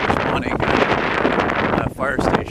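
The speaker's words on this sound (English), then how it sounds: "it's really windy here" Strong wind buffeting the microphone in heavy roaring gusts on an open boulevard in Laval, Quebec, with a person talking partly under the noise.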